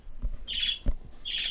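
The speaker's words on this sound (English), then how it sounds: "Oh, bird." Bird calls in a farming video game, with bursts of high chirping twice in quick succession over a soft ambient background, separated by a couple of low thumps.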